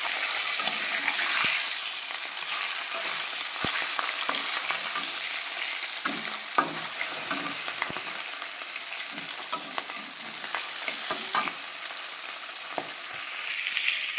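Fish pieces fry in a pan, giving a steady close sizzle with scattered crackles and pops that runs the whole time, with no talk over it.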